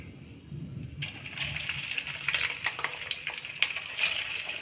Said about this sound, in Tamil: ஒரு கடாயில் எண்ணெய் ஊற்றி எண்ணெய் சூடானதும் ஒன்று ஒன்றா சேர்க்கலாம்